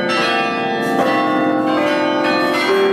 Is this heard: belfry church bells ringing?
yes